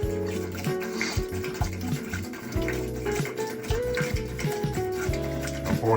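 Antifreeze glugs and splashes steadily as it is poured into a camp trailer toilet, a close continuous liquid stream with small bubbling irregularities and no speech.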